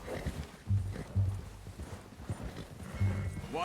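Horse hooves clip-clopping in Red Dead Redemption 2, a steady rhythmic trot of game-world footfalls with a few louder strikes, under faint background sound and no talk.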